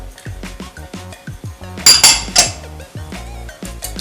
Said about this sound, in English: whisk to combine, beat it and beat it and beat it very well